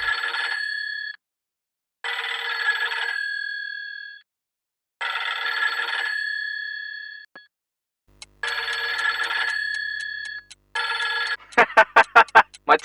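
A telephone rings in repeated bursts of a steady electronic tone, about four rings separated by short silences, loud and close, ending with a quick run of sharp pulsing beeps.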